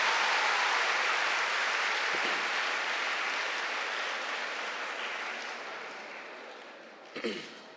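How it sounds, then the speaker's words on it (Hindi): A seated audience at a spoken lecture breaks into broad clapping that starts full and loud, then gradually thins and fades toward the end. "पहले तो आप अपने लिए क्लैपिंग करें ना, आप अपने जज्बा के लिए क्लैपिंग।"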